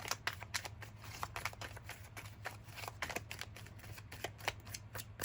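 Tarot cards shuffled by hand for a reading, a steady run of crisp riffling snaps and soft slides, close and fairly quiet over a low constant hum, with no talking.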